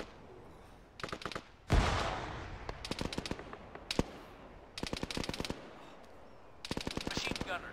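Machine gun fire in ArmA 3, several separate rapid bursts spaced a second or so apart, each a tight rattle of shots, with one heavier boom early on and a fainter background of distant battle.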